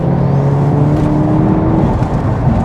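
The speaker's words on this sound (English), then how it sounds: "It just builds the revs so quick." A 500 hp manual Volkswagen Golf R Mk7.5 engine revs hard under acceleration, a loud close whirring drone that climbs steadily in pitch for under three seconds with no talk.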